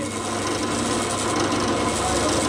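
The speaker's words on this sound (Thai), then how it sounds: "ก็ทำการเจาะใหม่ครับ เจาะอีกรอบ เจาะไปเจาะไปเรื่อย" A drill bores into a car exhaust pipe, giving a steady, harsh grinding rasp that runs without a break, loud and close.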